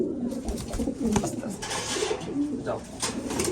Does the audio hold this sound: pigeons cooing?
yes